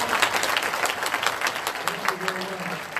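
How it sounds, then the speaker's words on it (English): Steady, dense applause from a pageant audience fills the room for a magician's stage assistants, with a voice briefly rising over it near the end. "A big round of applause for all my"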